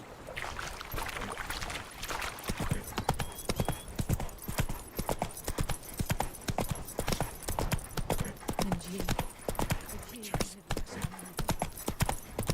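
Roach the horse's hooves in The Witcher 3 clop steadily and loudly for the whole stretch, a dense, close rhythm of hoofbeats with no voices over it.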